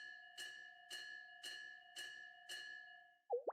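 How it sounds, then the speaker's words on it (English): A bell strikes six times at an even, unhurried pace, each ring leaving a sustained ringing tone, followed at the end by a brief rising electronic blip. "Are those bell noises?"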